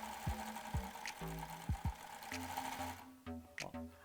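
An overlock sewing machine stitching fabric in short, steady whirring bursts with brief stops between them, fairly close and without talking.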